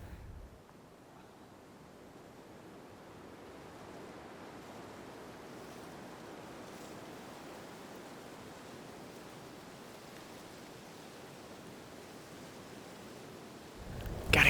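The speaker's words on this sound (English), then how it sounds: "The wind's picking up pretty good." Strong wind blowing outdoors during an archery elk hunt in Montana, a steady, broad rushing roar that fills the whole stretch without pause, with light buffeting on the microphone at the start and end.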